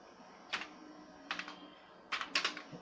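Keystrokes on a computer keyboard while Java code is entered in BlueJ: a few short clicky bursts spaced apart, fairly close and quiet, with no voice.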